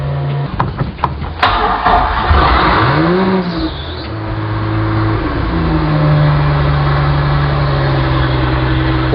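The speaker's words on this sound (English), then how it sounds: "and we're going to start the motor." A carbureted inboard/outboard boat motor cranks with a few clicks and thumps, catches at about a second and a half, then revs up with rising and falling pitch before settling into a loud steady idle.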